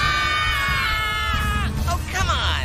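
Several voices scream together in an echoing room, a loud sustained chorus of yells with rising and falling pitches that breaks briefly and then swells again.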